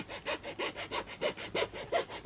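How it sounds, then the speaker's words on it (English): A hand file rasps around the edges of a freshly demolded resin piece in a steady rhythm of about ten quick close strokes, with no talk. "Use my file and just file around the edges."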